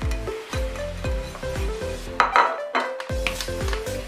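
A spoon stirs spices (salt, ground black pepper and red chilli) into a sandwich filling in a bowl, giving a close, rhythmic run of clinks and scrapes against the bowl with short pauses between strokes and no talking.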